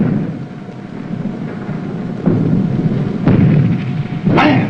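Torpedo explosions striking a Japanese naval fleet at sea, several heavy booms rolling in one after another at intervals over a low continuous rumble, heard at a distance.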